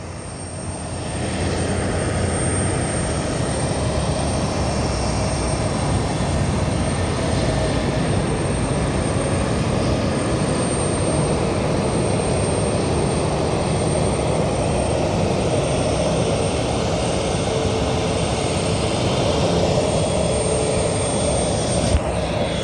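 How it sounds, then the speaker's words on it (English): Airliners taxiing at Madeira airport, including an A320, an A319 and a Ryanair 737-8 MAX, make a steady loud jet engine whine and roar that holds throughout, with no talking. "the A320 starting to backtrack while the A319 is starting to taxi"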